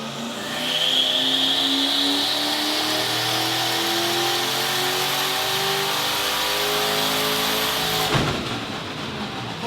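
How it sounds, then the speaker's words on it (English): A turbocharged V8 Ford Fairlane revs hard and holds high on a dyno, a loud sustained engine roar, then a sudden sharp crack as the tail shaft breaks and the engine note drops away. "that was the tail shaft breaking"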